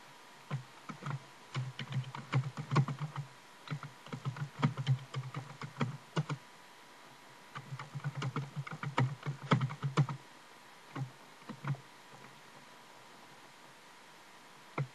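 Computer keyboard typing in bursts of quick, close key clicks, entering a title in Windows Movie Maker, with pauses between runs of keystrokes and no voices.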